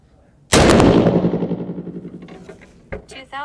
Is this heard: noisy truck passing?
no